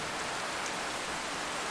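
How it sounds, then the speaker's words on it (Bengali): Heavy rain pours down on an empty village road at dusk, a dense, steady hiss with no breaks and no voices. "সেই জন্যই যেন আকাশ ভেঙে বৃষ্টি নামছে।"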